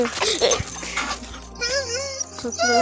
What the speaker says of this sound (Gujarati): જો મિત્રો 2 પગે ઊભો થયો છે કૂતરો, અને પાછો હેઠો આવી ગયો છે.